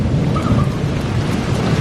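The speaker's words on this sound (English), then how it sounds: "whoa, thunderstorm." Night thunderstorm with a steady roar of heavy rain and low rumbling thunder, dense and loud throughout, with no voices.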